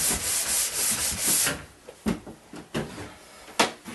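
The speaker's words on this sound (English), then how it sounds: "I'll just polish it with a nylon brush" Nylon brush polishing cold-weather paste wax on a ski, a run of fast, loud rubbing strokes that gives way to slower, separate brisk swipes, close up with no voices.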